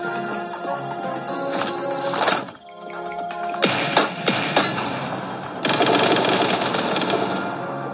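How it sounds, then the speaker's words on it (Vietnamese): Gunfire crackles in a sniper shooting video game: loud, dense bursts of rapid shots, broken by a short lull, then several sharp cracks and a final sustained volley. "Súng này rất là mạnh"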